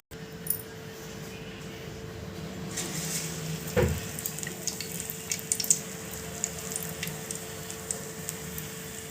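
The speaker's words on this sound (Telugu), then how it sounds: "ఇప్పుడు గోల్డెన్ కలర్ వచ్చే వరకు వేయించుకొని తీసేసుకోండి" Bangalore mirchi bajji frying in hot oil, a faint steady sizzle with soft crackles and occasional pops, a short louder burst near the middle, no talking.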